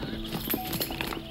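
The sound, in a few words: horse hooves clip-clopping during riding practice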